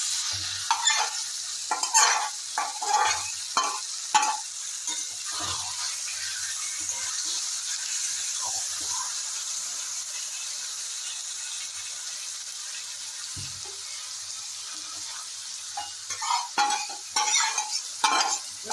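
Marinated chicken with green chilli paste, onion, turmeric and salt sizzling in mustard oil, stirred with repeated scraping strokes over a continuous frying hiss, busy at the start and end with a quieter stretch between.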